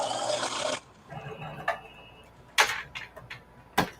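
A sewing machine stitches through leather in a short, dense whirring burst, then falls quiet apart from a few sharp, scattered clicks and taps.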